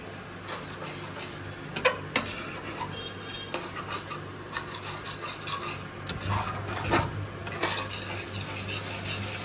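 A spoon stirs spices and water in a metal pan while cooking Bengali-style egg curry, with repeated scraping and clinks against the pan and steady sizzling underneath.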